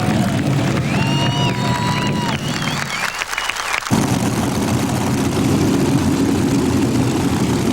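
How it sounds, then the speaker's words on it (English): Modified pulling tractor with six JP1 jet turbine engines at a 1991 NTPA pull in Chapel Hill, Tennessee, a loud continuous roar that stays powerful throughout with a brief dip midway, mixed with crowd noise and an announcer's voice. "6 JP1 engines really, really humming."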